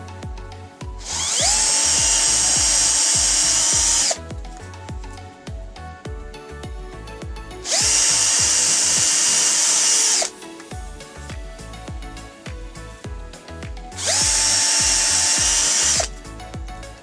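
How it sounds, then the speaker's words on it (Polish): A power drill whirs in three separate bursts of a few seconds each, with pauses between, loud and close with the high whine of a bit boring screw holes for a speaker in a Ford Mondeo Mk4. "Nawiercamy sobie pod wkręty"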